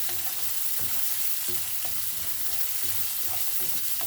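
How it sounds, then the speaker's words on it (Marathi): Onion sizzling and frying in oil in a pan for Udupi-style upma, a steady crackling hiss with occasional stirring scrapes, close and continuous with no talking. "छानसे परतून घ्या तेलावर"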